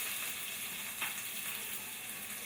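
Slivered red onions frying in oil in a pan, a steady close hiss and sizzle with faint crackles, heard alone without talk.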